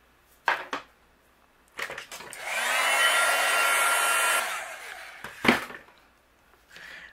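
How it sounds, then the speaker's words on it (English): A heat gun blows steadily for about two and a half seconds, melting white embossing powder on a handmade holiday card, with scattered clicks and handling knocks before and after. "I'll use my heat gun and we'll melt it."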